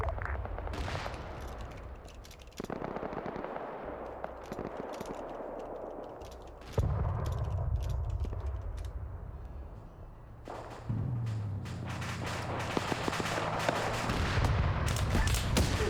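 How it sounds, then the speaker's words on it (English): Video game artillery shelling, with T-90 tanks firing on a BTR: a dense, continuous barrage of booming blasts and crackling gunfire, loud and sustained, with occasional sharper cracks near the end. "So now the T-90s are coming up and they're shelling this BTR."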